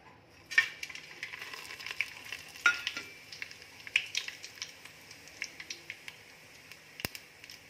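Whole cumin, cloves, peppercorns, cinnamon, cardamom and bay leaf go into hot oil for chicken biryani, giving a faint sizzle with scattered small crackles and light pan taps.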